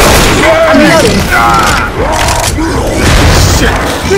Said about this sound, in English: trying to throw the pipe bomb for Chili